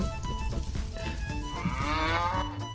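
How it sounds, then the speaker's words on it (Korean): A dairy cow in the online game Lineage Remastered lets out a long, tonal, synthetic-sounding moo that swells and bends in pitch over a steady backdrop of game audio, with no voices present. "네 번만 울어줘 젖소야 네 번만 울어줘"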